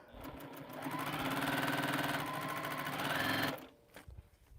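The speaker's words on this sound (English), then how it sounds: "So let's sew it across the top." A sewing machine stitches across the top of a quilt in one steady, loud run of about three and a half seconds, then stops, leaving faint handling noise.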